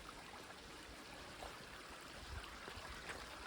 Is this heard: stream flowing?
yes